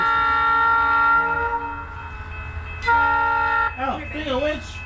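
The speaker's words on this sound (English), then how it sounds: "Real train's going by." Real train passing, sustained horn tones and low rumble dominating, then fading as voices talk over the end.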